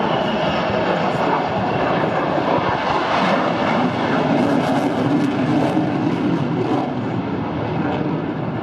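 Roughly 22-tonne aircraft flying overhead with landing gear down at a motor racing event, a loud, steady, broadband roar that holds at constant level for several seconds without fading.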